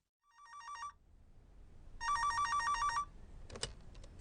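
A telephone ringing for a long-distance call, two bursts of warbling electronic trills, one short and one longer, separated by a pause, followed by a click as the receiver is picked up.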